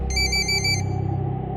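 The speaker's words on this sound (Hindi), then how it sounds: "पुष्कर का फोन बजा" A phone rings with a bright, rapidly pulsing electronic ringtone in a horror audio drama; the short, loud burst is heard close up over a low, steady background hum.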